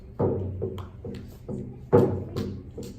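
Native American frame drum with leather heads and a wooden ring, struck by hand in a steady pattern of low, resonant thumps with a couple of heavier accented beats, close and clear with no talk.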